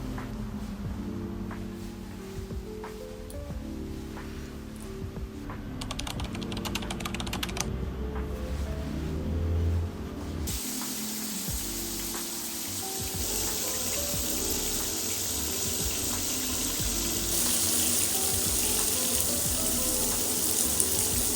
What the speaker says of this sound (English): So now I will brush my teeth